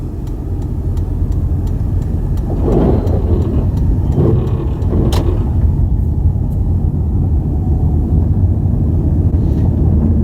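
Toyota Prius hybrid pulling away on snow with its front end working, a loud steady low engine and drivetrain rumble with a brief rising surge midway, close and continuous, no talk.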